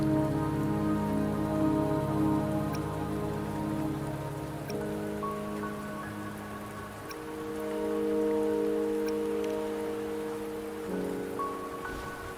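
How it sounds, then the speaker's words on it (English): Rain falls steadily in the video game Wuthering Waves, a constant soft patter beneath sustained melodic music, with no voices heard. "Don't worry, the rain won't last much longer."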